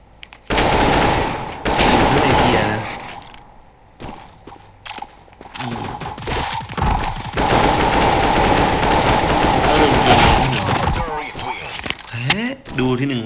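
Rapid, loud automatic gunfire from a CS:GO-style mobile shooter game rattles in long sustained bursts with brief pauses and clicking mechanical sounds between volleys, with a voice talking over parts of it.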